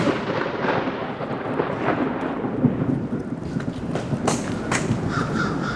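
Rumbling thunder rolls through a rainstorm at a zydeco festival in New Orleans, a broad continuous low roar with rain hiss and a few sharper cracks and bird caws near the end.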